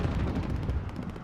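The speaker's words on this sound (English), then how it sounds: "Enemy cruise missile incoming." A cruise missile detonates in the video game Call of Duty Modern Warfare, giving a loud, continuous roar of rumbling blast noise that fills the whole moment with no voices.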